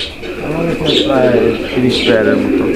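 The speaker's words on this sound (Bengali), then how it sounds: "ভাইয়ের এখানে যে কবুতরগুলো আছে" Pigeons at a farm of about thirty caged pairs coo in low, rolling phrases close by, repeating steadily beneath a man's ongoing conversation.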